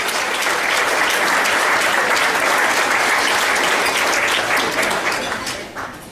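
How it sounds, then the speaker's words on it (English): A large crowd at a college athletics hall of fame ceremony gives a loud, dense round of applause that holds steady for about six seconds and then starts to taper off at the end. "Big round of applause for Bill."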